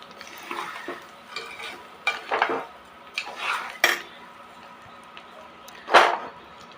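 Sugared rice for sweet pulao is stirred in a pan, with a faint sizzle under clinks and scrapes of a metal spoon against the pot at irregular intervals.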